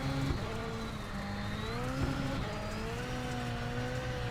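A rallycross car in the iRacing sim drones on at steady engine revs, with rising and falling gear tones and rough gritty road noise underneath, continuous and fairly close, with no one talking.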